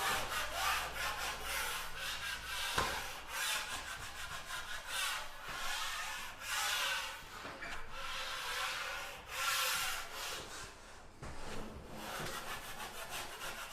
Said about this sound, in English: Make sure that the screws are scraped as well, so there's no little dimple of mud coming down there